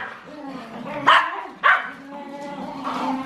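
Dogs bark two sharp, close barks in quick succession as a morning greeting, with yips and whimpering whines between them over an indoor background murmur.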